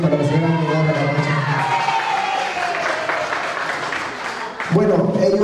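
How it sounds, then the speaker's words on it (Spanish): Crowd applause for a San Martín de Porres celebration in Sanremo, Italy, a broad wash of clapping and cheering that swells and then fades over several seconds, with a voice speaking over the start and again at the end. "Un aplauso para también para la señora Medora Camacho"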